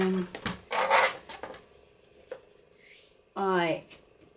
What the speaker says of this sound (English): So now I'm going to score this.